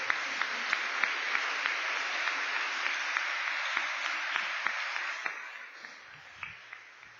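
A church congregation applauds at a Sunday service, steady dense clapping with sharper individual claps standing out, then thinning and fading to scattered claps near the end.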